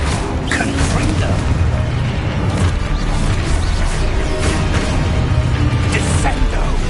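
A Confringo spell is cast in Hogwarts Legacy, giving loud, continuous magical combat effects with booming impacts, clanking mechanical rattles and crashes layered closely together.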